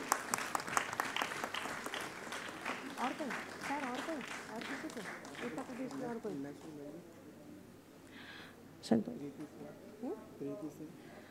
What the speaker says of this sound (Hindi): आज की इन प्रस्तुतियों के लिए जोरदार तालियां होनी चाहिए